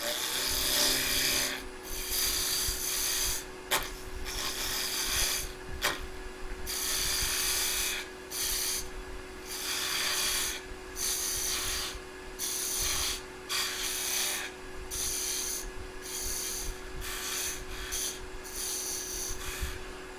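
A wooden piston box is trimmed down by hand with steady, close rasping strokes that repeat in a fairly even rhythm for about twenty seconds, with no talking.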